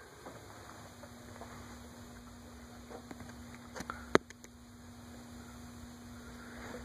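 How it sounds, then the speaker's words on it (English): A faint, steady electrical hum from a fluorescent light runs throughout, with a few soft clicks and a small tap partway through. "Only noise you hear right now is from that other fluorescent light."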